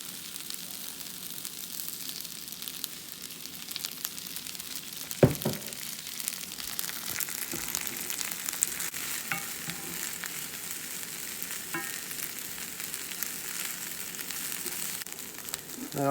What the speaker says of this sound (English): Now I have them simmering or sauteing